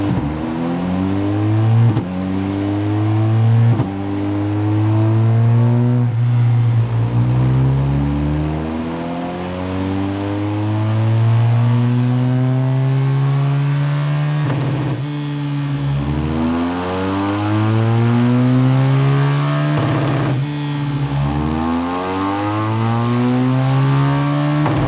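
A BMW R1250 GS motorcycle revs hard on a dyno, its engine note sweeping up and down through repeated runs, loud and close throughout with no talking.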